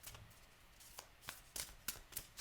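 Oracle cards shuffled by hand in a quiet room, producing a few soft riffling bursts and crisp flicks spaced irregularly over a couple of seconds, close and faint.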